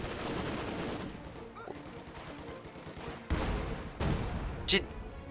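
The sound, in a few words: AT gun and machine gun fire in video game Company of Heroes 2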